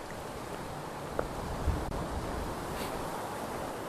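Gusty outdoor wind roars steadily, buffeting the microphone with a low, noisy rush and a few faint knocks.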